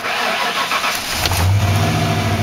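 A Ford OBS pickup truck with a failing engine computer cranks and catches, the starter whir giving way to a low engine rumble that settles near and steady, with no talking.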